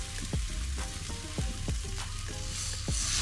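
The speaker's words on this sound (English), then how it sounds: "Just like that, nice sizzle." Barracuda fillet laid skin side down on a hot grill, sizzling steadily and evenly with a constant crackling hiss. The sound is close and moderately loud, with occasional percussive background sounds and no speech.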